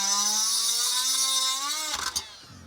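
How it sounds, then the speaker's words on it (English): A Dremel rotary tool rounds out the bottom of a metal part on a Tonka AA Wrecker toy truck being restored. Its close, high motor whine sags slightly in pitch, then ends in a brief rattling clatter as it spins down. "Looks like my Dremel here is coming loose. We'll do it one more time. We're just going to round out the bottom of that."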